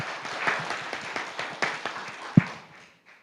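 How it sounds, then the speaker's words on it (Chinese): A church congregation at an outdoor park service claps hands in thanks, a brisk run of overlapping claps that gradually thins and fades to near silence, ending with one sharp knock. "拍手感谢我们的牧师好吗？"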